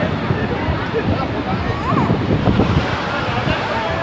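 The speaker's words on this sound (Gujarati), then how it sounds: "બાકી જોવો પાણી મોજા ફૂલ આવે" Ocean surf rolls in at Somnath beach, a loud, constant roar of waves mixed with gusting wind noise on the microphone, swelling slightly toward the middle, with faint voices underneath.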